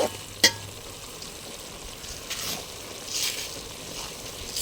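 Onion paste with salt and chili frying in a pan for fish curry, a steady close sizzle with a sharp utensil clink early on and occasional stirring scrapes, no talk.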